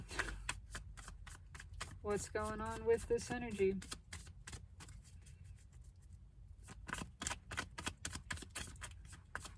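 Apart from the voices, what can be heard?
shuffling cards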